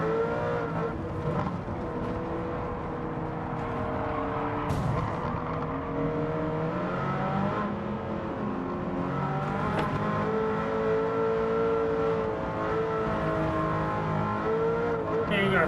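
Racing car engine in Gran Turismo 7 during a European Championship race, revving and accelerating continuously with shifting engine pitch, some tyre noise and a voice talking over it.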